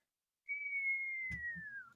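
A voice imitates a whistling torch falling down a hole: one long, steady whistle that slides slowly downward in pitch, with a brief low thump and rumble partway through near the end.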